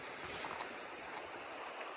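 Wind River runs past a trail bridge on a Pacific Crest Trail section, its steady broadband rush of flowing water filling the scene, soft and continuous with no voices.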